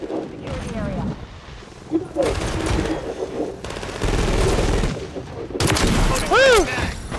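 Video game gunfire, bursts of automatic shots and heavy booms in a busy hardpoint match, rising and falling in intensity, with shouting players and game announcer voice mixed in.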